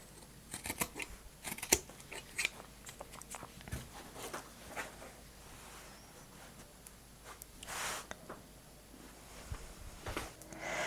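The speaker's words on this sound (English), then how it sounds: "And then we'll cut the other end." Scissors trim the ends of leftover quilting fabric in a series of quiet, irregular snips and crisp cuts with short pauses, close by, with no talk.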